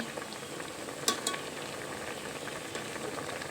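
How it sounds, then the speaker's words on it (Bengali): Green mangoes boiling in a pot on the stove for a sweet-sour mango bar, a steady low bubbling simmer with a few light clinks, close and fairly quiet. "আমগুলো কিন্তু প্রায় সিদ্ধ হয়ে গেছে দেখতে পাচ্ছেন"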